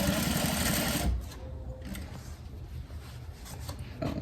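A sewing machine runs fast and steady for about a second, stitching down an elastic casing on a ruffle layer skirt, then stops, leaving quieter rustling and fabric handling.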